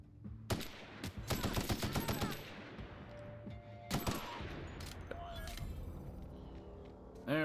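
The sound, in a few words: machine gun fire in video game The Outer Worlds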